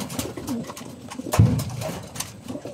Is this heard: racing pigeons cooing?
yes